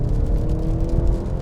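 A deep Maserati Grecale Modena engine growls loudly and steadily up close, a rumbling, throaty drone that holds for a moment without easing off.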